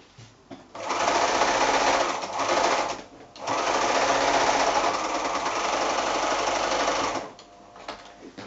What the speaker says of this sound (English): now I'm going to go back to the machine and just stitch that side hem back down again